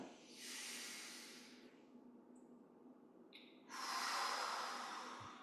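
Two strong, breathy exhalations during Yi Jin Jing qigong practice, each a long forceful hiss-like breath lasting a second or more, separated by a quieter pause, close and loud with no talking.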